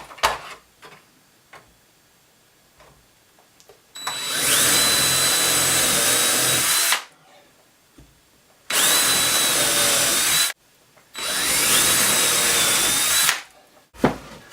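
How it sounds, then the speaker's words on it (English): A power drill whines loudly in three bursts of a few seconds each, drilling holes in a plug board, with quiet pauses and faint handling noises between them. "now I'm just going to drill a hole in each hole here"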